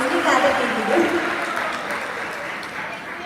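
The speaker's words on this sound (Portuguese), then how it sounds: "uma salva de palmas para Leila, gente" Audience applause at a church gathering for a woman named Leila, steady crowd clapping throughout, with a voice speaking over it near the start.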